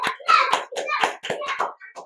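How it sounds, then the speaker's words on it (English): A round of applause for a children's book author during a read-aloud, with steady hand clapping for about two seconds mixed with bright, voice-like cheering. "let's give Miss Yvonne a big round of applause for writing this book for all of us"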